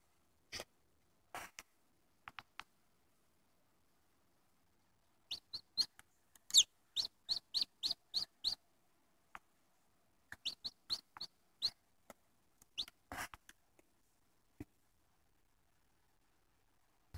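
Newly hatched chicks peep inside a homemade incubator: scattered, faint, high chirps arrive singly and in quick clusters, with short quiet gaps between bursts.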